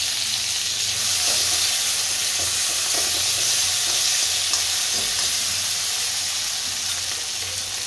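Potato pieces fry in ghee with cumin and salt in a hot kadhai, a loud, close, unbroken sizzle with occasional faint stirring scrapes throughout.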